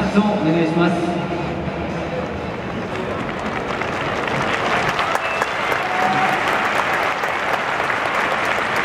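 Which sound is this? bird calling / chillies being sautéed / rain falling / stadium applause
stadium applause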